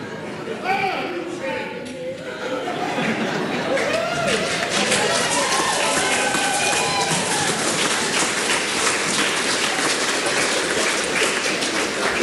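Public gallery in the New Zealand Parliament chamber breaking into sustained applause, a dense, loud clatter of many hands that swells after a few seconds and keeps going, with voices mixed in.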